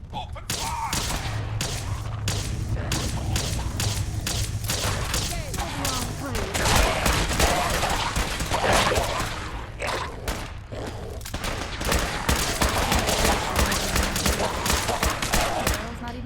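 Dense, sustained gunfire in Fallout 4 as Enclave remnants seize an oil rig, volleys of shots cracking and thudding almost without pause, loud and close, with voices shouting over the fusillade.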